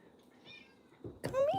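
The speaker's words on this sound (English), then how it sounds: "She's meowing for me." A cat meows outdoors: a soft, quiet opening, then a louder, clear rising meow at the end. A voice is faintly audible underneath.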